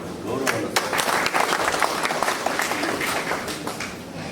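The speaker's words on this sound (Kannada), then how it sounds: "ಎಲ್ಲರೂ ಕೂಡ ಚಪ್ಪಾಳೆ ಕಟ್ಟೋದ್ರ ಮೂಲಕ ಅವರಿಗೆ ಗೌರವವನ್ನು" An audience claps in sustained, dense applause at a Devaraj Urs birth anniversary ceremony held by the Kanakapura taluk administration, steady and fairly loud throughout.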